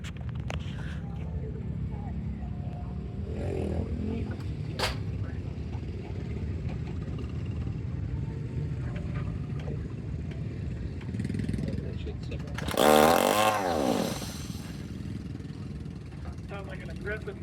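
At the Mid-Ohio Motorcycle Vintage Days event, a motorcycle engine rises sharply at full throttle and recedes as the bike rides off, after a stretch of low crowd and background noise with talk.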